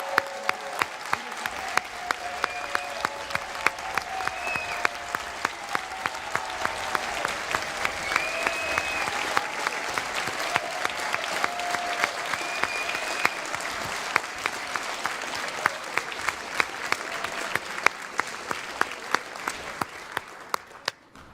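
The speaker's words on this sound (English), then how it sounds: "Let's give a really, really, really big, strong round of applause to former Congressmember Charles Rangel." Loud, sustained audience applause for former Congressmember Charles Rangel at a State of the District event, a dense crowd of clapping going on for about twenty seconds with scattered voices and cheers mixed in.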